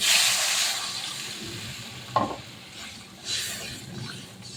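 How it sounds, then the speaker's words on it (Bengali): Water poured into a frying fish and taro curry, a loud sizzling hiss that fades, a sharp clink of a utensil on the pot, then another short surge of bubbling sizzle. "আমি জল দিয়ে দিচ্ছি।"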